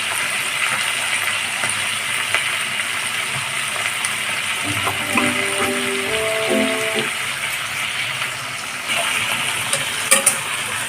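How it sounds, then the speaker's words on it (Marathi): Besan and capsicum with chilli powder and Kitchen King masala being stirred and fried in a pan, a steady close sizzle with soft scraping strokes throughout and no talking. "मिक्स करून घ्यायचं हे."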